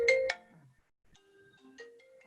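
A new mobile phone's ringtone plays a few short electronic tones: a loud opening pair of beeps, then a quieter melodic sequence of sustained notes, close by, in a quiet room.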